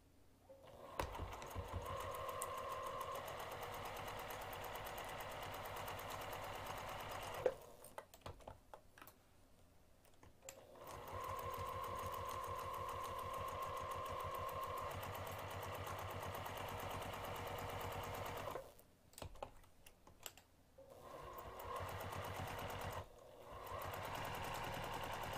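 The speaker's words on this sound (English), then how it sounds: "we're going to sew the sides and the bottom using an eighth of an inch seam allowance" A sewing machine stitches the sides and bottom of a fabric pocket onto a lining panel, running in long steady whirring bursts with short pauses between seams, close and quiet.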